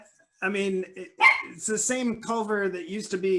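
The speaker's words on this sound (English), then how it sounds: "sorry for my dog" A pet dog barks a few times in the background of an online meeting, the yaps mixed in and partly masked under steady close conversation between people.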